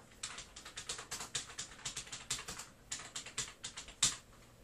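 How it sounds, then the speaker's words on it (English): Quiet keystrokes on a computer keyboard while setting up a WAMP server, a steady patter of clicks in short bursts with a slightly louder tap near the end, no talking. "Now type whatever you want to be in there."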